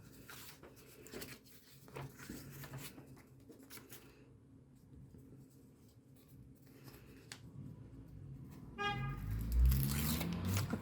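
A neighbour's car horn sounds nearby near the end, a brief tonal honk followed by a louder burst of rumbling noise, after a stretch of quiet room sounds with light scraping.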